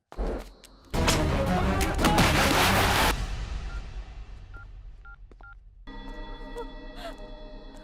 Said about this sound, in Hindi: भाई कोई फोन नहीं उठा रहा है।